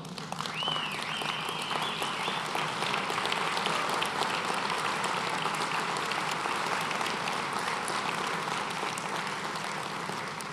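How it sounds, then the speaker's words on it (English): An audience at an aviation trade event applauds the association staff, with steady, dense clapping that runs on for several seconds at a moderate distance, crowd noise mixed in. "let's give them a round of applause"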